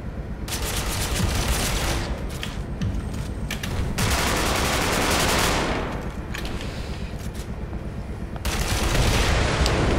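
Sustained bursts of sniper and automatic gunfire from the online shooter Ghost Recon Online crackle through ten seconds of dense battle noise, loud throughout with brief lulls near two, four and eight seconds.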